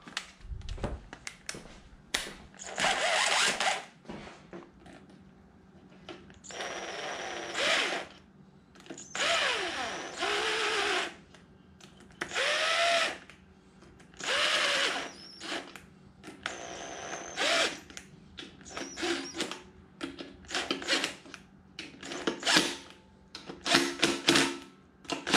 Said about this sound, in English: Just going to whiz them on with the impact driver.